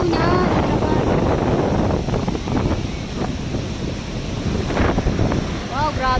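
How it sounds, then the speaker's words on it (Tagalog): Strong sea waves at a beach in Lemery, Batangas, roar and wash steadily under heavy wind buffeting the microphone, loud and continuous. "Lakas ng alon."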